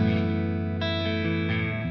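Sustained electric guitar chords ring out with a bright, clean tone through a Friedman BE100 Deluxe tube amp, a new chord struck roughly every half second, with no distortion.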